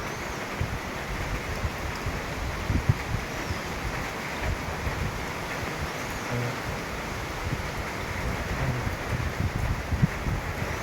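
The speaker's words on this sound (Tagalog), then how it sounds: "Malakas pa rin yung hangin." Strong, steady mountain wind roaring and buffeting against the microphone outdoors, with no pauses and no voices.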